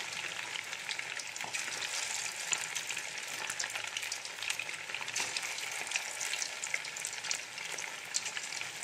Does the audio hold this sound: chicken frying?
yes